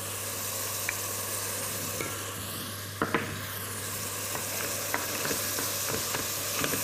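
Meat frying with onion and garlic added, a steady close sizzle over a low constant hum, broken by a few sharp clicks and scrapes of stirring.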